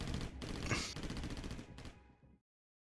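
A burst of several distant gunshots cracks in quick succession, echoing and then cutting off into silence, set in a Resident Evil scene in Raccoon City.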